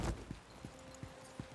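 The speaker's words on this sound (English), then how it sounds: "Let's get on my horse and go back." Horse hooves in the video game Lost Ark, four evenly spaced soft clip-clop steps, quiet and close.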